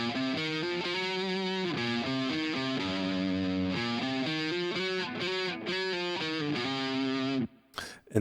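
An electric guitar overdriven through a JHS distortion pedal plays a steady run of sustained distorted chords and notes for several seconds, then cuts off abruptly near the end.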